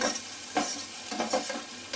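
Capsicum and mixed vegetables stir-fried in a pan for Jain Chinese fried rice, with a steady sizzle broken by several scraping, tossing strokes of a spatula, close and moderately loud, no voices.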